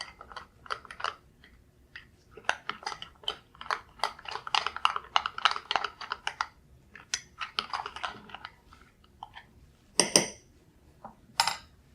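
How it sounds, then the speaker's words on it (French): A spoon stirs coconut milk with curry powder in a pot, giving irregular close clinks and scrapes in uneven bursts with short quiet gaps. "Je m'assure de bien mélanger."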